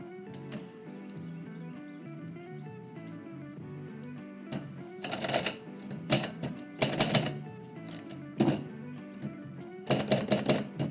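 A typewriter clacks through bursts of rapid keystrokes with pauses between them, close and crisp, over soft background music during a live poetry session.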